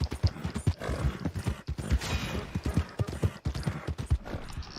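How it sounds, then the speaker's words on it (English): Horse hooves clip-clop in Red Dead Online, a steady run of close, crisp hoof strikes on the ground that continue throughout without speech. "There's a horse that belongs to player, Abby Joe."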